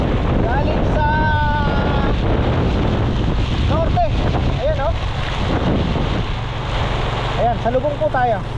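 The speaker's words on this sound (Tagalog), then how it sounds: "At ang malakas itong hangin na to ah." Strong northerly wind and heavy rain while travelling home in Arayat, heavy wind buffeting the microphone in a constant loud roar, with voices talking briefly over it.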